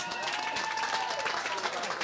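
An audience at a census press conference claps in a steady, moderately loud patter, with crowd voices mixed in throughout the short burst.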